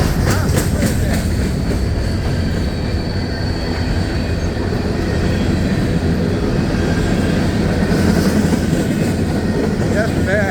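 An empty coal train with a distributed power unit rolls steadily along a siding, its wheels clicking and squealing, with loud, continuous rumbling close by.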